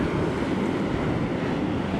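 Ocean waves at high tide wash over a Cornwall beach at Booby's Bay, a loud, continuous broadband roar of surf mixed with wind buffeting the microphone and no voices.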